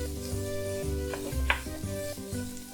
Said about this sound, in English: So we take the mince in the middle and we just break it up and throw it inside